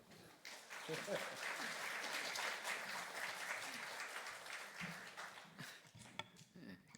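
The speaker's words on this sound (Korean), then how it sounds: "여러분 많이 박수로 맞이하겠습니다" A congregation at a university chapel service applauds to welcome a professor, a faint, sustained wash of clapping that swells and then tapers off, with some voices under it.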